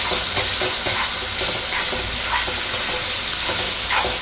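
Boiled black fenugreek cooks in a spiced yogurt masala, giving a steady loud sizzle and hiss with periodic scraping stirs throughout, close and continuous, no voices.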